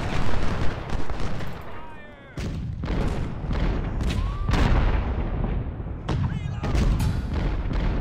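Musket volleys and artillery fire in the Ultimate General: Civil War video game, a string of loud booming shots and crackling bursts at irregular intervals, with a voice briefly heard between them.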